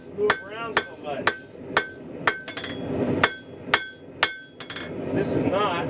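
A hammer strikes metal on an anvil mounted on a stump for forging a lantern hanger, giving about ten sharp ringing blows in a fairly even rhythm, close and loud, with faint voices between strikes.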